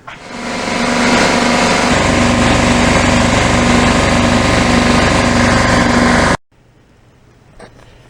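A Craftsman 33-gallon air compressor runs loud and close with a steady mechanical drone and a hum for about six seconds, then cuts off abruptly into near silence.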